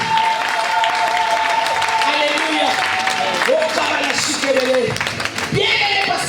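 Church congregation applauding and cheering steadily throughout, a dense wash of clapping under a loud preacher's voice and background music.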